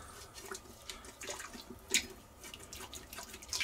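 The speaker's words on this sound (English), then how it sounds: "And I will deglaze this." Liquid hitting a hot pan while deglazing it for short ribs, a close, soft crackle with scattered drips and splashes and one sharper hiss partway through.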